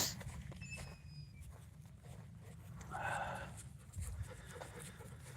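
A dog pants and shuffles about close by in a room, with quick breathy bursts and scuffling movement, louder around the middle and end.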